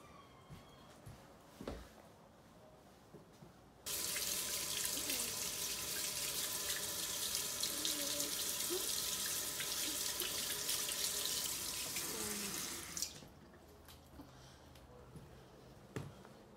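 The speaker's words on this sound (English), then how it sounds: "Now I'm ready to wash my hands with soap and water for 20 seconds." Tap water runs into a sink as hands are washed, a steady loud gushing stream for about nine seconds, framed by quieter room sounds and small clicks before and after.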